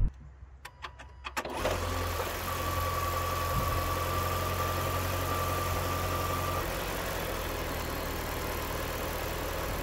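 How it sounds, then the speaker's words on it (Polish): A Renault Symbioz E-Tech 145 full hybrid engine starts and then holds at raised revs, a steady droning hum heard from inside the cabin after a few soft clicks. "że wchodzi na wyższe obroty, no żeby szybciej doładować i to w kabinie słychać"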